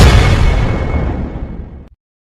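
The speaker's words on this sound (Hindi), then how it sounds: "तभी रमेश की गन नीचे गिरती है और गोली चलता हुआ बिल्ला के सिर के बीच में लगती है।" A single loud gunshot sound effect in a Hindi horror cartoon booms at once, then rumbles away in a long fading tail before cutting to silence.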